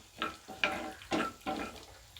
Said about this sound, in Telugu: ఆయిల్ హీట్ అయ్యాక పోపు దినుసులు వేసుకోవాలి.